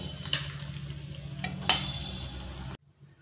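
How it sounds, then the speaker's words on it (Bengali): Cashews and raisins lightly frying in a pan, a soft continuous sizzle broken by a few sharp stirring scrapes of a spoon, close up, ending abruptly. "দেখুন এখানে কিছুটা কিশমিশ আর কয়েকটা কাজু আমি এখান থেকে ভেজে নেব।"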